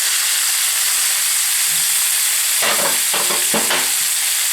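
Chicken and vegetables browning in a pan before braising, a loud steady hiss and sizzle throughout, with a few clattering stirs of a utensil toward the end, heard close with no voices.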